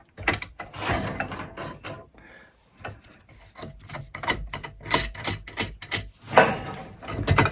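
Bolts being loosened on a homemade pig netting puller, giving a close, busy run of metallic ratcheting, clicking and rubbing that stops briefly partway through, with no talking.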